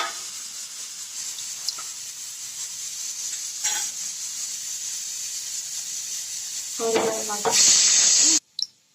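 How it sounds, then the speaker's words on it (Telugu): Whole garam masala crackles and sizzles in hot oil in a pot, a steady frying hiss with a few soft clinks, swelling louder near the end before cutting off. "ఆయిల్ హీట్ అయ్యాక హోల్ గరం మసాలా వేయాలండి"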